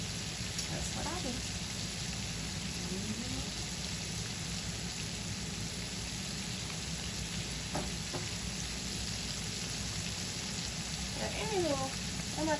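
Chicken legs fry in a pan with a steady, soft crackling sizzle throughout, fairly quiet, while a faint voice murmurs intermittently in the background.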